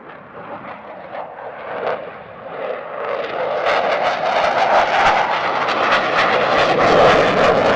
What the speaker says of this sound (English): The afterburner is near constant, the manoeuvres are complex, and there is barely a second when the jet isn't doing something interesting.